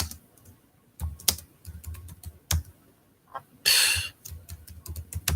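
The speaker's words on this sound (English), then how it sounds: "That's what I'm typing." Fingers type on a computer keyboard in irregular bursts of clicking keystrokes, some spaced apart and some clustered, ending in a quick rattling flurry of keys.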